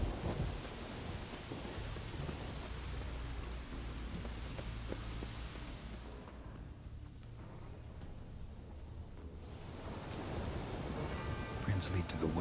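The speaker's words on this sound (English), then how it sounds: "Storm, damn it." Heavy storm with steady pounding rain and rolling thunder, loud and continuous, easing slightly midway before swelling again; no voices heard.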